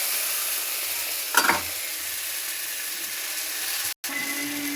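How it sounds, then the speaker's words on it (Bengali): Papaya and vegetable stalks being stir-fried in a pan, with a constant close sizzle and one brief scrape of stirring partway through, and no talk. "এই যে এই পেঁপো, ডাঁটা, এসব ভাজা হয়ে গিয়েছে।"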